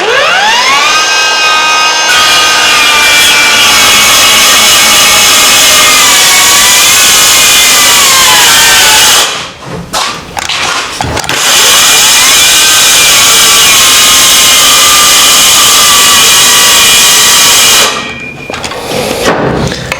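A power jigsaw cuts wood at loud, close range, its high whining buzz rising in pitch and running continuously, with two brief breaks where the blade stops and restarts.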